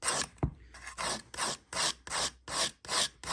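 A violin making knife is drawn across a fine diamond sharpening stone in nine steady, evenly spaced rasping strokes, close and clear with short pauses between passes.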